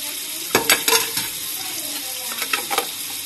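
Chicken pieces fry in a pan with rosemary, giving a steady loud sizzle broken by a few sharp scraping stirs near the start and again toward the end, with no voices.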